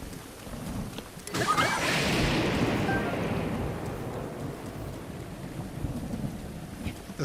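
A thunderstorm in a Zelda video game: a sudden crack of thunder swells into a long rolling rumble over steady rain, loud and close, then slowly fades back into the rainfall.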